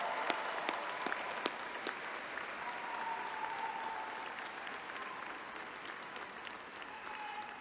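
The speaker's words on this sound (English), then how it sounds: "let's give them a thunderous round of applause" Commencement audience at a university engineering graduation ceremony applauding in a dense, steady wash of many hands clapping, sustained and moderately loud throughout with a few sharper claps standing out near the start.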